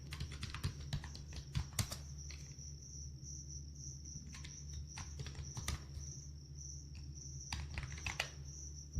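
HTML code is typed on a computer keyboard in sparse, quiet clusters of key clicks, with a faint steady high whine in the background.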